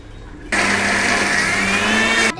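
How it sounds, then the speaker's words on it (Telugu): A mixer grinder whirs loudly for about two seconds, grinding chickpeas with a steady high-pitched motor roar that cuts off abruptly. "మిగిలిన శనగలు కూడా ఇప్పుడు మళ్ళీ మిక్సీ జార్లో వేసుకోవాలి"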